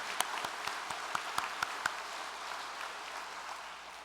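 A church congregation applauds in thanks to a revered mother figure at a worship service, a steady wash of clapping with a few sharper individual claps standing out, at moderate distance and without speech.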